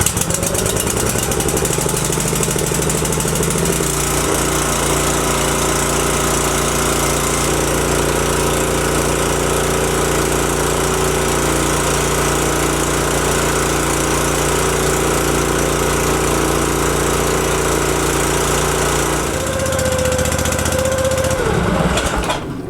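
A pressure washer engine, newly commissioned alongside a hotbox, runs on a first start with a loud, steady mechanical drone, then dips and shifts pitch near the end.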